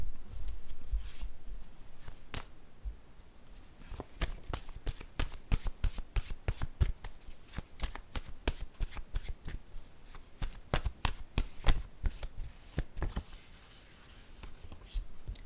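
Tarot word cards being shuffled by hand, a long run of crisp riffling card snaps and soft slides at close range, steady and uninterrupted with no talking.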